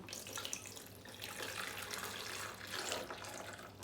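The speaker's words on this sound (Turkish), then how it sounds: "Evet lavaboya suyumuzu koyalım." Water pours steadily into a toy sink, a soft continuous splashing and trickling that stays close, fairly quiet and unbroken, with no voices.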